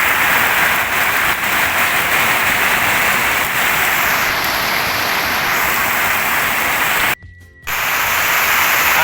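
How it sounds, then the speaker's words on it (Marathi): Heavy rain pouring down near parked vehicles, a loud dense hiss of falling water held steady throughout, briefly cutting out near the end before resuming. "किती जोरात जोरात जोरात लय जोरात पाऊस चालू आहे"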